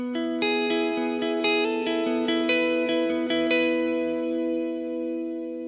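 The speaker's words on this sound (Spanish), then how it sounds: "Entonces selecciono un reverb que a mí me gusta. Tengo el cloud." Notes on an electric guitar ring out through a multi-effects pedal's cloud reverb, each plucked tone blooming into a shimmering, sustained wash that keeps lingering and slowly fades after the playing stops.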